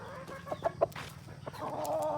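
A rooster clucks in a few short bursts, then lets out a longer call, fairly faint amid soft outdoor background noise.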